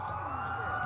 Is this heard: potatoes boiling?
no